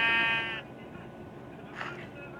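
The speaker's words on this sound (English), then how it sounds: "Now this, it's a real sheep." Minecraft sheep gives a loud, close, wavering bleat at the start, followed by a fainter second bleat a moment later.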